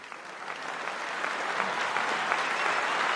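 Steady applause from a large audience, swelling slightly louder over a few seconds with dense, continuous clapping.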